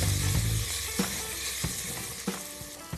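Onions sizzling as they hit hot ginger garlic paste in a pan for Indian spinach khichdi, a steady close frying hiss with a few soft stirring clicks and scrapes, no talking.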